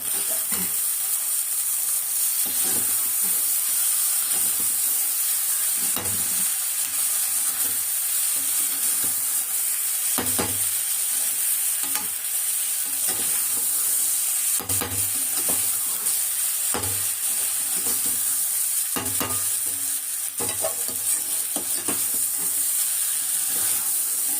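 Snacks frying in hot oil with a steady loud sizzle, while tongs stir and scrape through them in repeated clinks and knocks across the whole stretch, close by and without talk.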